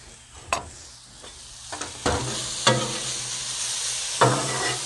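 Cubed hibachi noodle ingredients sizzle steadily on a hot Blackstone griddle, a constant frying hiss broken by several sharp scraping clacks of a spatula against the metal, close and moderately loud with no talk.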